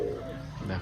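A domestic display pigeon, a green-marked foreign breed kept among many young pigeons, gives a low, steady throaty coo close by, filling a brief moment with no talking over it.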